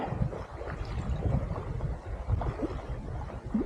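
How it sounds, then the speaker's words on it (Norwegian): Gusty November wind buffets the shore during sea trout fly fishing in Rogaland, Norway, a steady low rumbling roar and microphone buffeting with faint water lapping, and no voices. "Den skiftet vinden retning midt i kastet."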